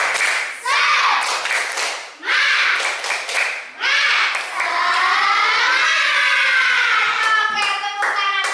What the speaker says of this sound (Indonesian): Kita tepuk semangat bersama-sama.